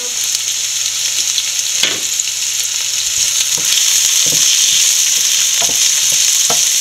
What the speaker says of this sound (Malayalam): ആവശ്യത്തിന് ഉപ്പും കൂടി ഇട്ട് നല്ലപോലെ വഴറ്റിയെടുക്കാം.